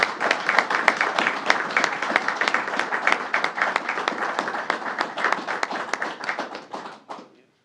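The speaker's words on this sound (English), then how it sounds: "Let's give her a round of applause." An audience at a New York State Police announcement applauds Lieutenant Young, with many distinct claps forming a lively, steady ovation that thins and stops near the end.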